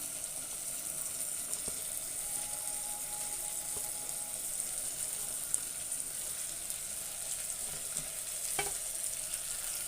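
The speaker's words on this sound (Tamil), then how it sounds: "இப்போ பீன்ஸ் போட்டுக்கிறேன், கேரட்டு, உருளைக்கிழங்கு எல்லாத்தையும் போட்டுக்கலாம்." Beans, carrots and potatoes fry in a pan for brinji rice, giving a steady, even sizzle that runs throughout with a faint occasional clink, moderately close and no voices.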